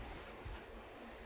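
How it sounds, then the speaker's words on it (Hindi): Strong wind blowing across a mountainside, a steady broadband roar with a low gusty rumble that swells briefly near the middle, continuous and close to the microphone with no speech. "आजकल ना बहुत तेज़ हवा चल रही है"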